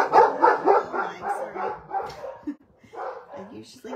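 Dogs bark and yip indoors in a craft room, a cluster of sharp repeated barks near the start that thin out and recur later, mixed with a voice talking over them.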